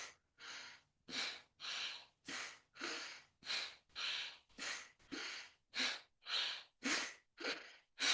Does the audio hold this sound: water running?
no